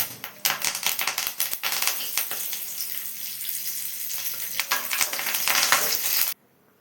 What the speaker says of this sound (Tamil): நல்லா நம்ம டிப் பண்ணி வச்சுருந்த வாழைக்காவை அதில் போடுறோம் பேனில்.